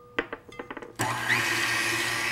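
Egg whites for Italian meringue buttercream are beaten until frothy by an electric mixer, which starts with a few short taps and bursts and then whirs steadily and loudly.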